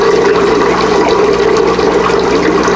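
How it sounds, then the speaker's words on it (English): A bell siphon drains an aquaponic media bed with a loud, steady gurgling rush of water, close and continuous like a flushing toilet. "easy to tell right there that the bell siphon's working."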